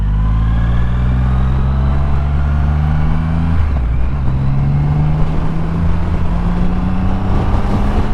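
Triumph Rocket 3 GT motorcycle at speed, its engine droning loud and continuous with rising harmonics, a brief dip and shift in pitch midway as the rider changes gear, no voices.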